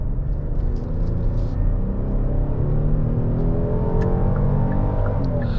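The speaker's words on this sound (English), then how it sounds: "Nice throaty sound from that naturally aspirated V6." A 2023 Kia Telluride SX Prestige with a naturally aspirated V6 accelerates in sport mode, heard from inside the cabin as a steady, loud low engine rumble with a gradually rising tone and no talking.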